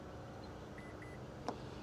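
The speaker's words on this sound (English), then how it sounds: "You're going to hold this button down and listen for the beeps." A 2023 Acura power tailgate gives a few short electronic beeps while its height is being set, quiet and close against a faint outdoor background hum.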